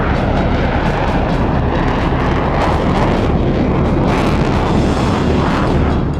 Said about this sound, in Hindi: यह B-21 रेडर की पहली टेस्ट फ्लाइट थी।